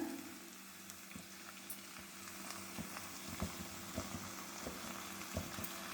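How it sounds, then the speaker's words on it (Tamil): Yellow pumpkin pieces sauté in oil, a faint, steady sizzle with occasional soft stirring clicks and scrapes, heard alone at low volume. "எண்ணெயிலேயே அந்த பூசணிக்காயிலே போட்டு வதக்கிடுங்க"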